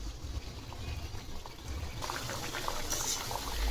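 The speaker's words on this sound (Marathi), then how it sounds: "त्यामध्ये आपण हे आपले स्नॅक्स कट केलेले हे या तेलात सोडू." Cut snack pieces dropped into hot oil for frying, a soft bubbling hiss that swells after the first moments and builds steadily, close and moderately quiet with no talk.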